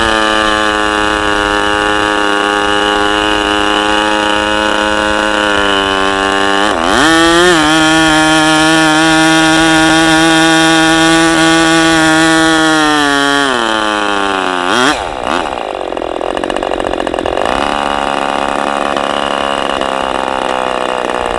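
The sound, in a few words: Fox 40 BBRC ABC model engine running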